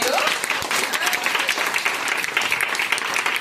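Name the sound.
audience applause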